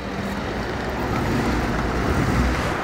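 A Lada with a 1.5 engine drones steadily on a test drive, a continuous loud engine and road rumble with no pauses or voices.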